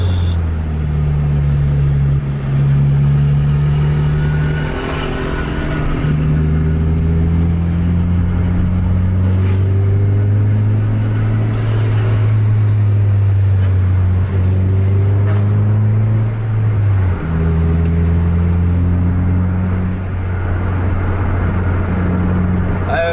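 Scania bus engine revving hard while overtaking, a loud close drone whose pitch climbs and drops through gear changes, continuous throughout with wind and road noise.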